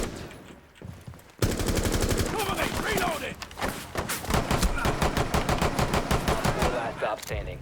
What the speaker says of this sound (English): I'm getting shot through a wall.